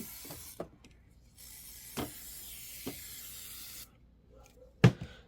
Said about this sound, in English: I'm going to spray this a little bit just here in the hoop